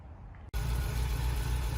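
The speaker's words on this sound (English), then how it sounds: "it's idling nicely now at around 850" An MGB engine idling at about 850 RPM, a steady, close, loud low rumble that starts abruptly after a brief quieter stretch and holds even without any talking.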